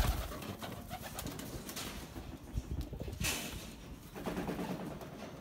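Pigeons in a closed loft coo and stir close by, with soft wing flutters and scattered shuffling noises running through the whole stretch.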